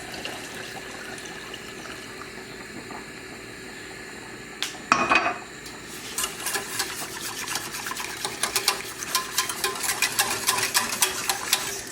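Quiet liquid sounds, then a metal whisk scraping and clicking rapidly against a saucepan as milk is whisked into a sauce for fish pie, growing busier and more rhythmic toward the end.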